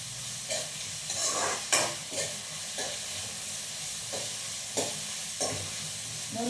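Chicken biryani masala sizzles steadily in a pan while a spoon scrapes and stirs through it in several distinct strokes, close and clear, with no talking.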